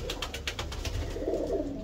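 Pigeons in a loft of red-eyed Kasuri bloodline birds coo steadily and softly at close range, a low rolling murmur running through the whole short stretch with no talking.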